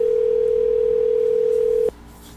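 A telephone dial tone hums steadily and alone for nearly two seconds before cutting off abruptly, followed by faint line noise as a call back is placed.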